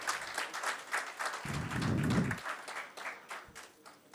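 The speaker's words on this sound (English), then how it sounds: "Big round of applause for Sandeep Isore sir." An audience applauds a guest at a felicitation ceremony, a steady patter of clapping that is moderately distant and fairly quiet, with a brief low hum partway through.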